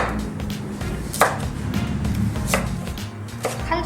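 A kitchen knife chops carrot on a cutting board, cut in half and laid flat, while making japchae. The chops come as a steady series of crisp, close taps, with a few sharper knocks standing out.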